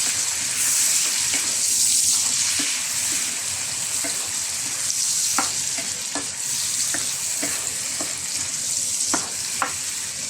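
Pinakbet vegetables with tomatoes sizzle in a pan while a spatula stirs them, sharp scraping clicks landing irregularly over a constant, close frying hiss.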